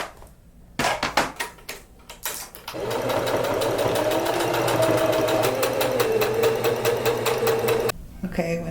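A sewing machine stitches a thrifted dress, starting with a few short stop-start bursts and then running at a fast, steady whirring rhythm for several seconds before stopping, close and fairly loud.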